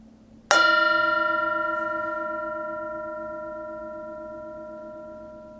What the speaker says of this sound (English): Enjoy the sound of the bell.